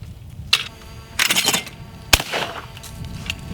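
Shotgun blasts at clay targets on an outdoor range, two or three sharp reports with short echoing tails over faint background noise.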